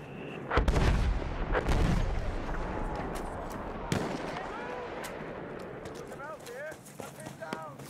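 Artillery fire in the video game Battlefield 1, several heavy booming blasts early and a sharp one near the middle, with crackling gunfire and distant battle noise between them and a voice speaking over it.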